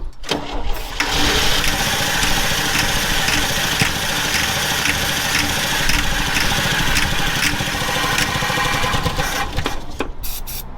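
An old truck that has not started in years cranks continuously for about ten seconds, a loud steady churning starter rhythm with the engine struggling but not catching, close to the listener.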